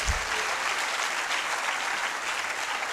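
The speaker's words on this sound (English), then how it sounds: "I thought we would have a louder round of applause." Applause from the audience at a research conference opening ceremony: a steady, even wash of clapping from a crowd, moderately loud and continuous, with no voices over it.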